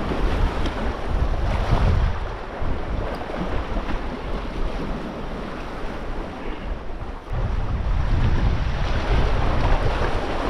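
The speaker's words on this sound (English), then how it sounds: "Just keeping an eye on these waves, because the wind's going that way." Ocean waves surge against a rocky breakwall under strong wind, a loud continuous roar of surf and gusts buffeting the microphone, with no speech.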